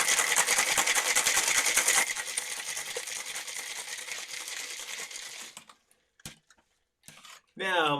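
A cocktail shaker filled with ice, lemon juice, cane sugar syrup and liqueur is shaken hard in a fast, rattling rhythm for about five seconds, then stops into near quiet before a short voice enters.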